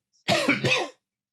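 A single close, harsh cough, short and loud, with silence before and after.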